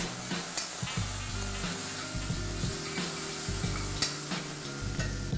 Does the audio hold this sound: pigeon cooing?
no